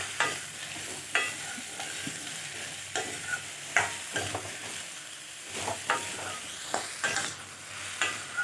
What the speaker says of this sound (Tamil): இப்போ எண்ணெயில் ஒரு 2 நிமிஷம் நல்லா கொஞ்சம் வதக்கியிருக்குறாங்க.